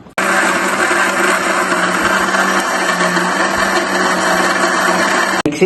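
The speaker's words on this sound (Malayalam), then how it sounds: "ഇത്രയും കാര്യങ്ങൾ മിക്സിയുടെ ചെറിയ ജാറിൻ്റെ അകത്ത് വെച്ചിട്ട് നല്ല അടിച്ച് നല്ല പേസ്റ്റ് പരുവത്തിലാക്കണം" A mixer grinder's small jar whirs loudly and steadily for several seconds grinding spice paste, then cuts off abruptly near the end.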